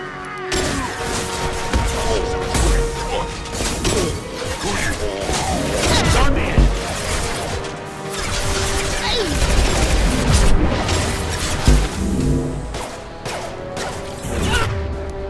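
Carnifex pistol fire in the video game Mass Effect 2 comes as repeated sharp shots and impacts amid combat crashes and booms, heard under near-constant talking.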